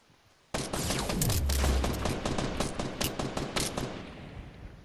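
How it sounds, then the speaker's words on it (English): Gunfire erupts in a video game, rapid close bursts of automatic shots firing almost without pause for several seconds, loud and dense, with no voices. "He's shooting at something."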